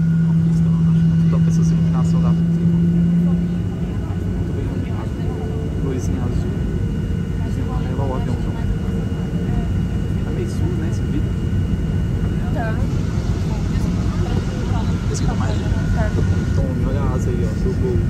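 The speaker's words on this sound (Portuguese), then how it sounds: "Estou sentindo a puxada da turbina." An airplane's jet turbine engines roar in a loud, steady, continuous rumble, heard close and unbroken for the whole stretch.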